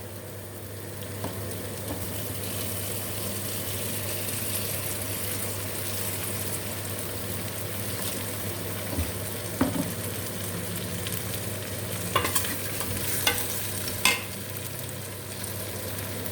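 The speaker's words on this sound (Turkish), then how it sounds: "Şimdi su ilave edeceğiz." Steady oil sizzle from a hot pot of boiled chicken with no voices, broken by a few short bursts and clinks as water is added and stirred toward the end.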